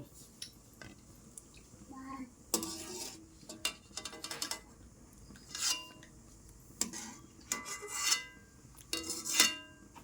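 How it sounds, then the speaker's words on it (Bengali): Boiled orange peels being strained, with metal utensils and a strainer clinking and scraping against a pot in irregular bursts, water sloshing between, close and fairly loud, faint voices in the background. "ঠিক আগের মতো করেই আমি সবগুলো কমলা লেবুর খোসা ছেঁকে নেব।"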